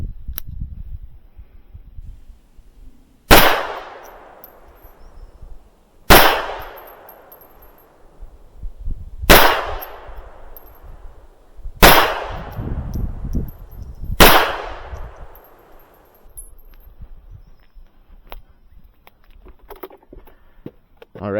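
Five sharp, loud gunshots from a Manurhin PP pistol firing .32 ammunition, spaced a few seconds apart at a range, each crack ringing out with a short decaying echo.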